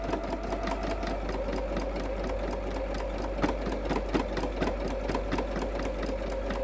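A sewing machine stitches in the ditch across a quilted table runner. The needle chatters in a fast, even rhythm that carries on steadily, close and moderately loud.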